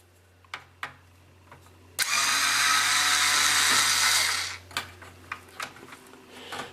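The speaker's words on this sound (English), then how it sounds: "I'm going to pop these screws out so I can pull that device off" A power screwdriver removes screws from a Nintendo NES console, whirring loudly and steadily for about two seconds, set between sharp clicks and clatters of handling at close range.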